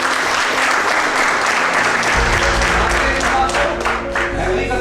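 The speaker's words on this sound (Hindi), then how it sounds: "एक बार जोरदार तालियां होनी चाहिए" Loud, dense applause from a large audience at a leadership development session in Lonavala fills the whole stretch, steady and sustained, with some crowd noise mixed in.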